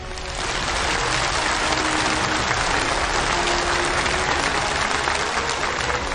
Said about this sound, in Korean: 우리 뜨거운 축하의 박수를 보내줍시다.